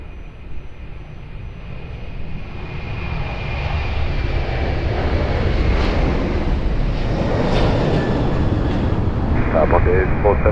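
An Airbus A330 departing runway 02 at Lisbon Airport, its jet engines swelling into a loud, sustained roar, with a radio voice speaking in the background.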